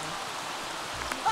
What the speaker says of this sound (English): It is still raining outside, which is really depressing.